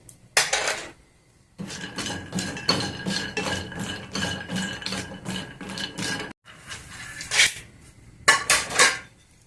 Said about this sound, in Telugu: ఇప్పుడు క్యాషో నట్ తీసుకున్నాము ఇవి కూడా వేయించుకున్నాము